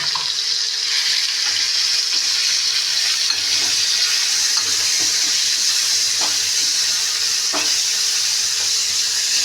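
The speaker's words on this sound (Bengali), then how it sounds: "কড়াইতে মধ্যে চিংড়ি মাছ দিয়ে দিলাম" Peeled prawns rubbed with salt and turmeric fry in a wok, making a loud, continuous hiss with scattered small pops and spatters.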